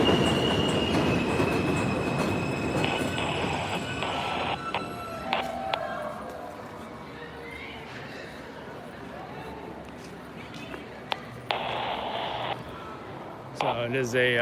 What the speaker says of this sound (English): Train is loud.